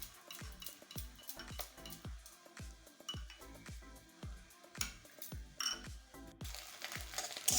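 A spoon stirring chili sauce into veg and egg chowmein in a pan, quiet repeated scraping and clinking strokes in a steady rhythm over a soft sizzle.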